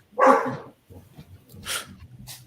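Dog barking indoors in a room, one loud close bark followed by softer whimpering and yipping sounds and scattered noise.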